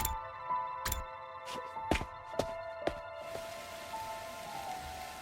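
Steady patter of video game rain with a few sharp, distinct drips or ticks standing out, plus a faint sustained tone underneath.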